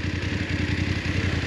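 A BMW F 850 GS Adventure 2022 with an 853 cc engine runs close by in a steady, throbbing mid-pitched pulse, with faint mechanical clatter and no voices over it.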